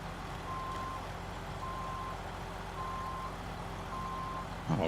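Reversing beeps from a truck in the SnowRunner game, Brutal Mode on an Austria map: four evenly spaced steady tones over a constant low engine rumble, with a brief clatter at the end.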